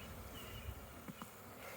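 A low, even drone of honey bees from an open hive being split outdoors on the grass, faint and continuous, with a couple of soft handling clicks and no talking.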